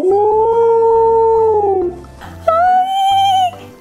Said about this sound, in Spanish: ¡Que se acerca el lobo!